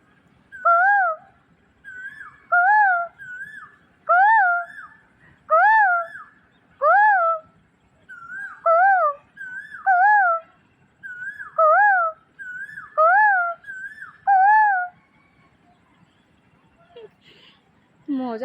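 A koel (cuckoo) and a person mimicking it trade loud, clear, rising two-note calls, about a dozen repeated every second or so, ending in rustling handling noise.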